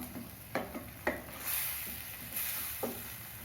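A spoon stirs egg gravy with coconut milk in a pan, a few scraping strokes over a soft background sizzle, quiet and close with no talking.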